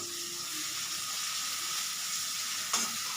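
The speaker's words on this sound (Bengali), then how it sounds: "রসুন একটা সুন্দর গন্ধ বেরোচ্ছে, একটু রসুনটা ভাজা ভাজা কাঁচা ভাবটা চলে যায়" Garlic fries in mustard oil in a wok, with a continuous close sizzle and hiss, then a single sharp clink of a utensil near the end, and no talking.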